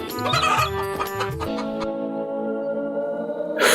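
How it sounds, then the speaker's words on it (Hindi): A rooster clucks loudly and close up, a burst of rapid throaty calls that trails into a sustained warbling note. "ये मुर्गी नहीं, मुर्गा है"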